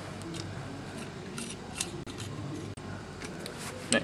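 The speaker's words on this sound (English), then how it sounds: "And we'll take the air cap off." Air cap being unscrewed from a DeVilbiss GTI Pro spray gun during dismantling for cleaning, a few faint close metallic clicks and scraping rubs over a quiet room background, no talk.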